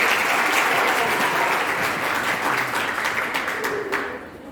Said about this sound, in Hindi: एक बार और तालियों के साथ में